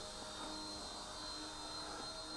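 A small Eachine E129 RC helicopter with altitude hold hovers nearby, giving a steady, thin electric whine and buzz from its motor and rotor, unbroken throughout.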